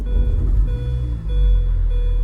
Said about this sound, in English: Car started and is running smoothly.